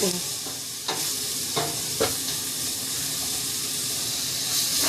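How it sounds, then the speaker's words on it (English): Onion and zucchini squash cook in butter over high heat, giving a steady close sizzle with scattered scraping stirs and utensil knocks, and no voices. "Now, see it's starting to brown, the onion? That's why you put it on high fire"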